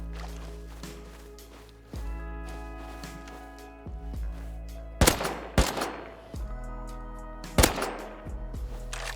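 Shotgun blasts in a snowy survival video game land as sharp, separate booms every second or two, some louder and nearer, with footsteps and faint game ambience between the shots.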